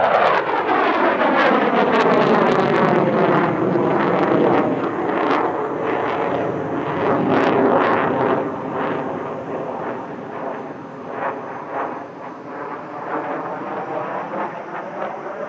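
A Mirage 2000 fighter jet at the Dubai Airshow roars loud and close in a sustained, rumbling jet-engine blast that swells and shifts in pitch as it passes, easing slightly toward the end, with no voices.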